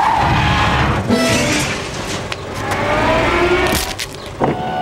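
A cartoon car pulling up to hitchhikers, a loud continuous engine rumble with shifting, wavering tones as it approaches and slows.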